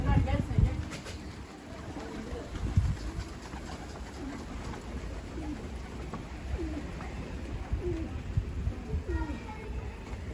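Pigeons, among them red dolapçı birds, coo softly in a loft, with low repeated calls rising out of a steady noisy background.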